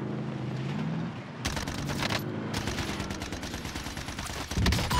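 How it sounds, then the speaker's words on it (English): Gunfire in the game Warzone, with rapid automatic bursts rattling out loud and close in several runs separated by short pauses, over a low background rumble. "I'm getting shot from behind."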